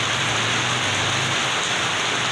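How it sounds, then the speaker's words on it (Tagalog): Heavy rain pouring steadily in Bacolod, a dense continuous hiss of water hitting surfaces close by, with no voices. "Oh, ang lakas ng ulan."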